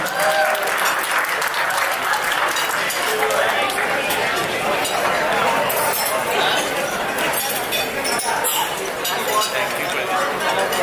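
A banquet-hall crowd in Surrey gives sustained applause at a Republic Day celebration, thick, even clapping lasting several seconds, with scattered chatter and light clinks mixed in.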